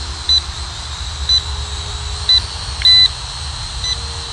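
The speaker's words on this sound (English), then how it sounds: "so it does that beep when it turns to home" A Dynalog DR DG 600C foldable mini GPS quadcopter drone gives short high electronic beeps as it returns to home. Four evenly spaced beeps sound over steady rotor hum, the last one slightly longer.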